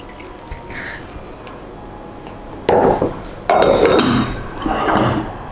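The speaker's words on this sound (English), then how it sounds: "And then I'll add my water and allow this boil till it's soft." Water pours into a metal pot of seasoned shaki (tripe) on the stove, with a sudden rushing splash and pouring that starts, pauses briefly, then resumes amid light clinks of pots.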